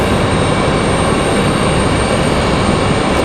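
Steady, loud, broadband jet roar fills the air at RDU on a stormy evening as a Sun Country airliner arrives from Myrtle Beach, unbroken and close with no voices.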